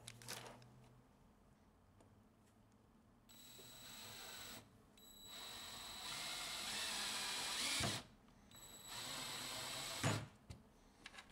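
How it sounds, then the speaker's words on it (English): A power drill driving a screw into wood while extending a Hot Wheels Super 6 Lane Raceway, with several whirring bursts of a few seconds each, close and fairly loud, separated by short pauses. "I don't screw this one in all the way first because I want to make sure that the second one gets lined up with the hole"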